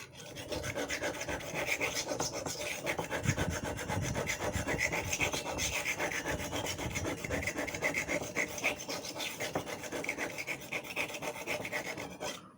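A knife blade is drawn back and forth over a wet whetstone, making a continuous close rasping scrape in steady strokes, with no talking.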